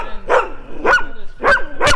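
A dog barks four times in a steady rhythm, loud and close, each bark a short sharp yelp with a slight whine to it, no talking.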